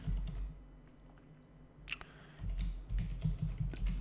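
Computer keyboard keys clatter in irregular bursts of quick close taps with a short pause, then a denser run of typing, fairly faint with low room rumble beneath.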